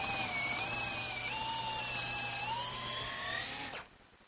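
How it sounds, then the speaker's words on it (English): An electric drill with a larger bit enlarges a pilot hole in wood, whining at high speed, its pitch dipping briefly under load, then cuts off abruptly near the end. "I'm just going to use a larger bit in the drill"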